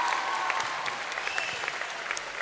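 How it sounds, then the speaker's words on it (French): An audience applauds during a children's singing contest final in a concert hall, with dense, steady clapping that fills the whole stretch at a moderate distance. "Oui, oui, on peut applaudir."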